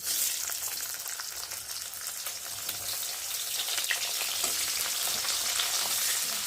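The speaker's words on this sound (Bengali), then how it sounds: "আর এখন আমি পেঁয়াজগুলো দিয়ে দেবো।" Onions sizzle and crackle in hot oil in a kadai, a steady dense frying hiss that stays loud and close throughout with no talking.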